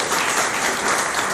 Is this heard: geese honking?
no